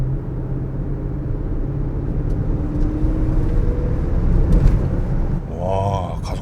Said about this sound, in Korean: 가속 페달을 조금 세게 밟으니까 이 흡기 소리가 그대로 들려지고요